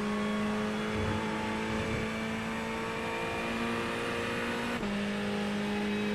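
A Ferrari 488 GT3 Evo racing engine in iRacing, held at full throttle on the Spa-Francorchamps circuit. It drones steadily and loudly, close up, with a sustained high note and a brief gear-change dip near the end, and no talk.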